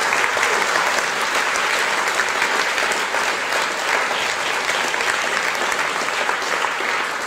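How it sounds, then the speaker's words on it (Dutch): Audience applause at the opening of a Dutch political quiz show, a full, even burst of clapping from a large crowd in a hall that holds steady throughout with no talking. "APPLAUS"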